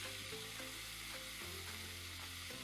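Broccoli rabe cooks in olive oil in a pan, producing a loud, steady, close sizzle with a couple of low scraping stirs, no talking.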